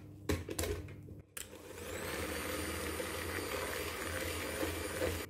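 An electric whisk beats clementine cake batter as oil is trickled in, a steady high motor whir close up after a few brief starts and stops at the beginning, running continuously with no voices.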